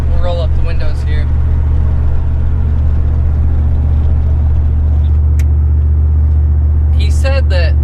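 Chevrolet Silverado with a 6.0 engine, new exhaust and cam, idling with a loud, deep, steady rumble throughout, heard from close by with faint talk at the start and end.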